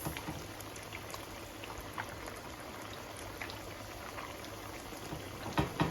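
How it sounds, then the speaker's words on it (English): Meat sizzles and fries steadily in a pan, a continuous crackling hiss with occasional louder pops and spatters near the end, heard up close with no talking. "And we're just going to let those fry up"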